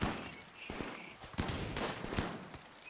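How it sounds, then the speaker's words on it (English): Colonists firing guns in the video game Rimworld, with a quick string of faint gunshot bursts over a quiet game background and no one talking. "Please shoot the one closest to you."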